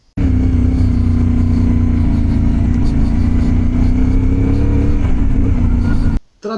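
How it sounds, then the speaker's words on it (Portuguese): Moto Morini Alltrhike 450 parallel-twin with a 270° crankshaft revving close up, a loud, deep, full-bodied V-twin-like roar held steady for about six seconds before cutting off abruptly. "Esse virabrequim de 270 faz a moto ter um comportamento e um som muito parecidos com o da V-Twin, que é aquele ronco mais encorpado"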